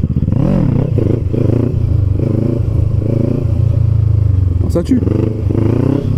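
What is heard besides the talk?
Kawasaki Ninja 650 motorcycle rolling slowly during a wheelie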